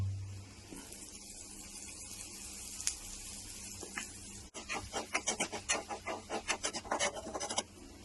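Curry leaves, broken dried red chillies, turmeric and asafoetida crackle and sizzle in a hot pan, quiet at first, then a burst of sharp spitting pops in the second half.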